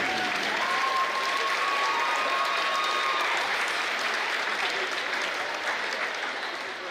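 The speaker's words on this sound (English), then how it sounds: "Let's have a nice round of applause for our senior band." Crowd applause in a gym at a high school basketball game honoring the senior band, a dense, sustained wash of clapping that holds steady for about seven seconds before easing slightly, with a faint tone under it.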